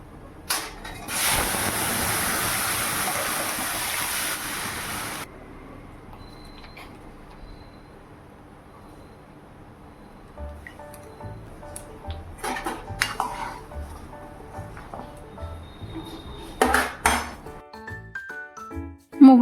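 Moong dal poured into a hot tempering of cumin, bay leaf and dried chilli, a loud crackling sizzle for a few seconds, then quieter scattered clinks and knocks of pots and utensils.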